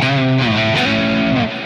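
An electric guitar played through a McRocklin Suite amp set to very low gain, giving a nearly clean tone with slight edge; sustained chords ring out loudly and evenly, then fade slightly at the end.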